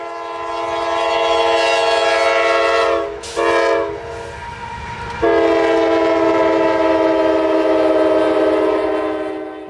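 Freight train Q453 on the S Line at Oxford passes close and loud with strong horn blasts and rolling wagon noise, one brief dip near the middle before the horn and rumble resume steadily to the end.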